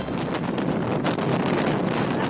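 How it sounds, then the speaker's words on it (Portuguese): Strong wind buffets the summit of the Christ statue more than 700 metres up, a loud, steady roar of gusts rumbling continuously without pause. "dá para ouvir o barulho do vento"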